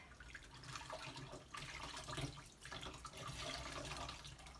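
Soapy water sloshes and trickles as wool is squeezed out by hand, a steady close wet swishing with brief pauses and no talk.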